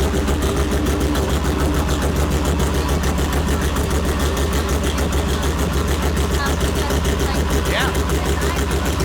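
An idling engine in a heavily modified 2700+ hp Holden VL with the exhaust bypassed after the turbo. It throbs loudly and continuously close by, with a fast, steady pulsing beat.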